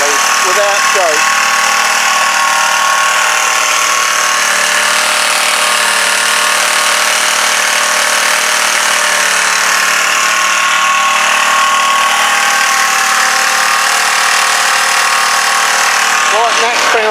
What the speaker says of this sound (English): And final one, running perfectly without choke.